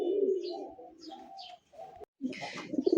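Pigeons at a breeder's loft coo softly in repeated low throaty bursts, with a few brighter chirps mixed in, close by and fairly quiet with brief gaps of silence.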